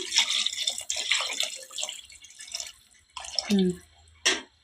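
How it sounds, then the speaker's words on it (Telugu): A short splash of water poured into a pot of radish sambar, briefly after some talking, followed by a quick clatter. "నీళ్ళు అయితే ఇంకా సరిపోలేదు, ఇంకా కొన్ని అయితే వేసుకుందాము."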